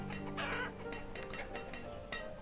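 Chickens in the video game Banished cluck in short, repeated bursts, fairly close and moderately quiet, with a slight rooster-like tone and no speech over them.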